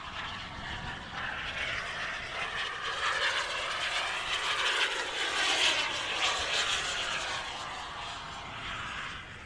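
LintonJet X80DX turbine powering an AEROFOAM MB-339 model jet at about 30% throttle in flight, a steady whooshing whine that swells and slightly shifts in pitch as it passes, heard outdoors alone.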